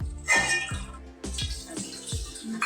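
A little water poured into a pot of layered chicken biryani, heard as a few short splashing pours and drips with brief pauses between, close and fairly quiet.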